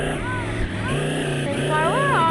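A monster truck engine in the video game Chicken Gun hums continuously with wavering, rising pitch, loud and steady throughout, under overlapping voices talking.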